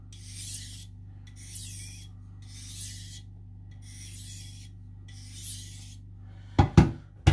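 Five slow, even strokes of a knife blade rasping across a sharpening stone, each a distinct scrape separated by short pauses, over a steady low hum, ending with a few sharp knocks.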